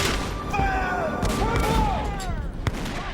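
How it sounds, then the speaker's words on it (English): Artillery firing on a village church held as a rebel stronghold during a siege: dense, continuous booming bombardment with overlapping blasts and whistling, loud throughout. "General Colburn orders his artillery to fire on the Patriot stronghold"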